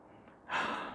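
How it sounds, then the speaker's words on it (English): A single sharp nasal sniff of a cologne, a quick close-up inhale that starts halfway through after near silence. "So final sniff."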